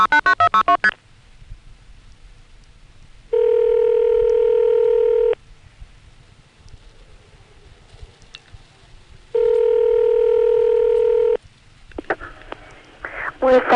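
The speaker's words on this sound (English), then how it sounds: "the system in Woodbridge is going to know that I dialed a 0 plus the phone number" A telephone number dials through an old step-by-step exchange, with two long steady tone bursts separated by quiet line noise, plus brief clicks and breathy sounds at the start and end.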